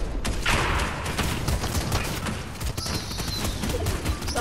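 Rapid gunfire in a Fortnite no-build match, dense bursts of shots crackling close and steady throughout with busy game sounds behind.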